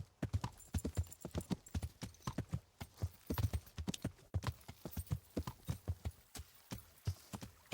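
Horse hooves clip-clop steadily in Kingdom Come Deliverance as a rider crosses a river onto the road north to Talmberg, with a close, even rhythm of hoofbeats running throughout and no talk.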